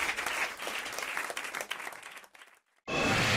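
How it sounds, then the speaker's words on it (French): A studio audience applauds in a brisk, dense patter that fades out briefly before a burst of bright, loud sound cuts back in. "Sous vos applaudissements"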